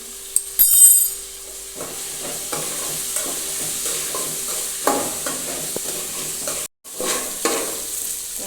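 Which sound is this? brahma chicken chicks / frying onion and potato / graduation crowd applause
frying onion and potato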